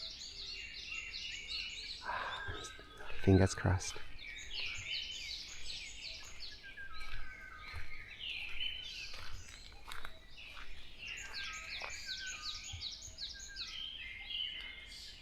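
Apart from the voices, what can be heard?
morning birdsong, including black-naped oriole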